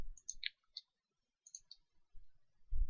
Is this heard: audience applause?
no